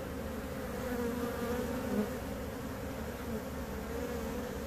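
Honeybees buzzing around a hive in a Tampa, Florida tree, a dense continuous drone of many bees close by, steady and unbroken throughout.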